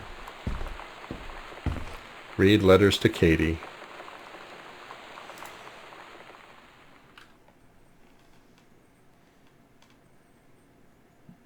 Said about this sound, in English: You can really hear the wind and rain outside